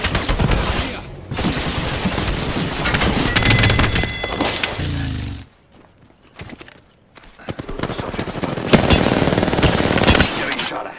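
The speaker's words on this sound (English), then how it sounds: "Getting shot at." Heavy automatic gunfire in the shooter Apex Legends, dense rapid bursts close and loud, breaking off briefly into near quiet before another long stretch of firing resumes.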